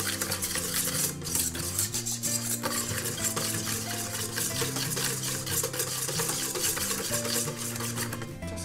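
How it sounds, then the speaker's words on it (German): Vanilla milk is stirred into an egg mixture for eclair pastry cream, a steady scraping and whisking rhythm against the bowl, close and continuous, with background music underneath. "Das Ganze muss jetzt schön miteinander verrührt werden."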